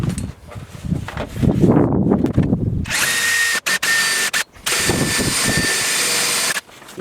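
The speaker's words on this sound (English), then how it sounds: "I'm going to use a 1 1/4 inch hole saw for this cut." A drill driving a 1 1/4 inch hole saw through a kids cot panel during installation, with an uneven grinding start, then a loud steady high whine of cutting broken by several brief stops and restarts.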